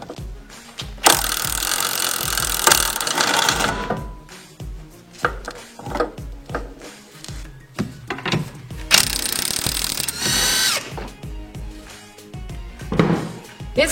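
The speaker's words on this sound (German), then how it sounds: "Die schraubt ihr mit einer 17er Nuss ab." Loosening the front sway bar link nut on a BMW E46 with a 17 mm socket, with loud bursts of rapid ratcheting or power-tool rattling separated by clanks and metallic knocks, close and alone.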